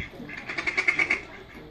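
Ducks quacking in a quick run of about eight rhythmic calls, moderately near, with a voice and background chatter mixed in.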